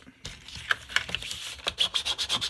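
Paper pieces being burnished down onto a Graphic 45 mini suitcase pop-up book, giving close, repeated rubbing and scraping strokes that quicken into a steady rhythmic series toward the end.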